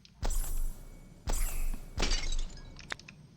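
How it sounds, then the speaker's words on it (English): Glass shatters in the Spheriums video game, three sharp crashes about a second apart, each with a brief crunchy tail, then a light clink, loud with no talk. "the broken glass sounds really wonky"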